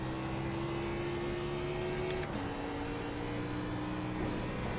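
An Xfinity car in iRacing at Phoenix holds full throttle as a steady, droning engine tone. The pitch dips briefly midway before it carries on.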